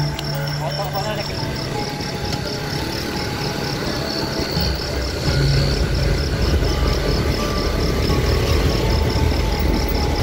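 A motorbike idles near an old Dutch-built dam, its steady low engine hum running throughout beneath people talking.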